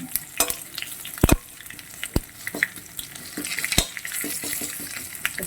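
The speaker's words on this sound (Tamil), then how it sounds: "நல்லா வதக்கிட்டுருங்க" Cumin, fennel and garlic sauté in hot oil, with a soft background sizzle broken by sharp, irregular scrapes and clicks of a spoon against the pan, several clustered together and no speech.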